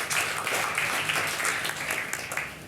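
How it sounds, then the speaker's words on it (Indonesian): Church congregation applauding for God during a Sunday worship service, a steady wash of clapping from many hands at moderate loudness, continuous through the moment with no clear voices on top. "Berikan tepuk tangan untuk Tuhan kita."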